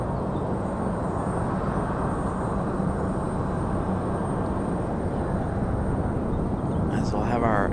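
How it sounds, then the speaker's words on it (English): Air Canada airliner taking off for Montreal from Raleigh-Durham airport, a continuous loud jet roar filling the clip, with a short voice near the end. "Air Canada off to Montreal"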